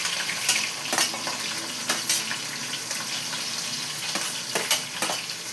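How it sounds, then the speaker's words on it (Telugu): Onions and green chillies fry in a hot pan with a steady, loud sizzle that fills the whole stretch. Brief stirring scrapes rise above it now and then. "ఆనియన్స్ వేసేసుకుందాం ఫ్రెండ్స్. పచ్చిమిర్చి వేసుకుందాం."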